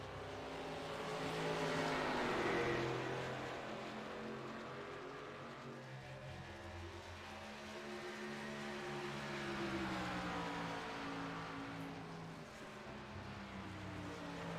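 Race cars in a Gateway 150 race roar around the track, a sustained engine drone with wavering pitch as cars pass, swelling loudest early and again later, with a faint commentator voice underneath.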